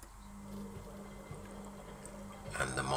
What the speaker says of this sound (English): I've put in a quick wash, seems to be filling with water